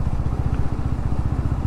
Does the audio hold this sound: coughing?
no